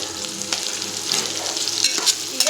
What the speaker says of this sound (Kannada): ಈಗ ಇಷ್ಟು ಚಂದಾಗಿ ಫ್ರೈ ಮಾಡ್ತೀನಿ